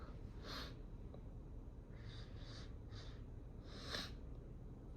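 A person sniffs Chhinkni snuff from a fresh bottle, giving several short, sharp nasal sniffs and snorts spaced over a few seconds, close and quiet over a steady hiss.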